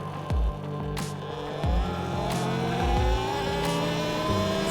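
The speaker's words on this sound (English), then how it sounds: "All you can hear is the sound of the motor." A Talaria xXx electric motorbike motor whines as it runs, a rising and falling electric hum that keeps climbing in pitch. It is close and steady, with no voices.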